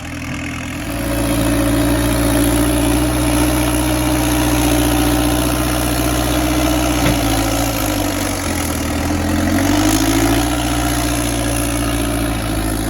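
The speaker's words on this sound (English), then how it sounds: "God bless the rubber-tired backhoe." A rubber-tired backhoe moving material while building a driveway and firebreak runs steadily and loudly throughout, its low engine drone rising and dipping in pitch partway through as it works under load.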